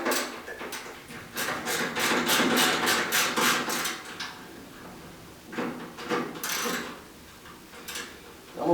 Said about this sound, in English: now that I got my 1/4 inch, I'm just going to remove these 2 screws.